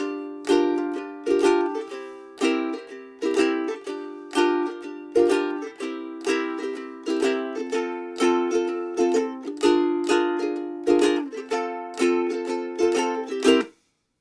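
Plucked ukulele strumming the intro chords of a song in a steady rhythmic run, bright and close, with regular strums and brief pauses, ending abruptly.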